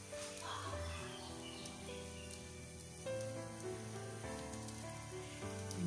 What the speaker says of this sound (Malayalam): ഇപ്പൊ ഭയങ്കര മഴയൊക്കെയാണ്.